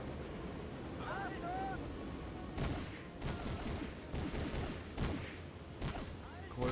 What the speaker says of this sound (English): God, those machine guns are so deadly.